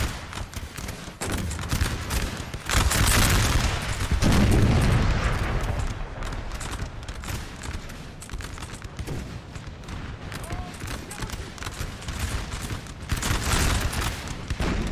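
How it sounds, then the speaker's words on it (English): Musket volley fire in a Napoleon: Total War battle game, troops shooting uphill: a continuous crackling roll of massed shots with deeper booms, steady and moderately loud throughout, swelling early and again near the end. "They're shooting uphill. A lot of their bullets probably aren't even hitting."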